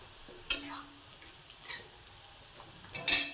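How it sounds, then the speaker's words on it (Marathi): Grated coconut being sautéed with onion in oil for chana masala, a faint low sizzle broken by two sharp spatula scrapes against the pan, one near the start and one near the end. "हे चांगलं परतून घेऊ खोबरं"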